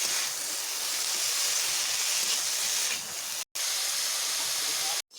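Potato pieces frying in hot oil for a bitter gourd dish give a dense, steady hiss close by, briefly cut by two short drops to silence near the end.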